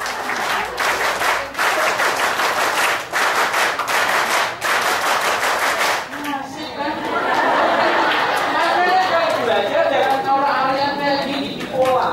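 An audience at a university public lecture claps quickly in unison for about six seconds, loud and close. The clapping then gives way to lively crowd chatter and voices.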